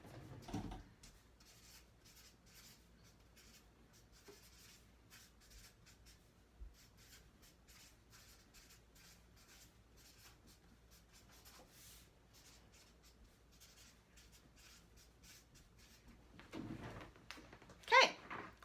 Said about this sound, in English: Let me write it on my chart.